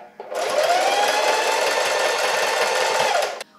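Sewing machine running a zigzag stitch on a cowl neck fitted dress, one continuous fast whirring burst of about three seconds, close and clear, starting and stopping abruptly.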